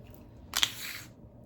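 A wine bottle is opened up close: a short, quiet burst of cork-and-seal noise with a couple of sharp clicks, then a faint fading rustle.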